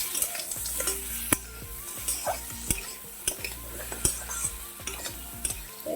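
Crabs are stir-fried in a pan village style, with a steady sizzle under repeated scraping and clattering of a spatula against the pan, clacks and knocks coming every half second or so, close and without talking.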